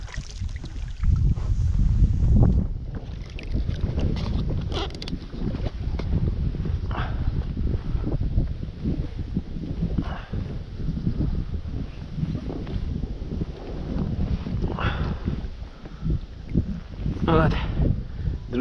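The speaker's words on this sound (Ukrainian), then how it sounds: "Чекаємо, тут і вітер." Gusty wind roars across the microphone in a steady low rumble throughout, outdoors on an evening pike-fishing trip with live-bait float rigs, with people talking now and then over it.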